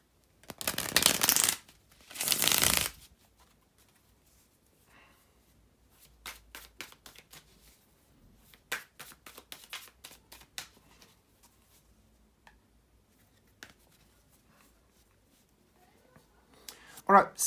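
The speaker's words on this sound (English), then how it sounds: "bear with me just a second, guys, to shuffle the tarot cards" Tarot cards being shuffled in two loud, dense bursts near the start, followed by quieter scattered riffling and handling sounds, then a final brief burst at the end.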